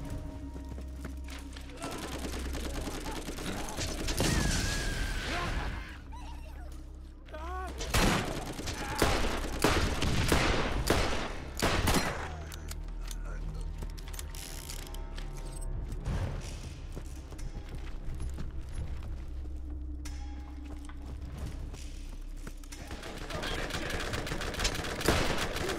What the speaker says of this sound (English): I'm getting shot from every thing.